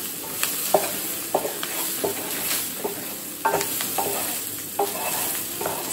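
Garlic and mushrooms fry in a pan with a loud continuous sizzle, broken by repeated scraping strokes of a utensil stirring them, close up with no voices.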